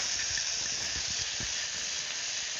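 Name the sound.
onion and onion paste frying in pan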